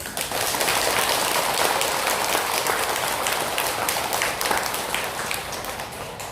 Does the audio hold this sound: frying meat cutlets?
no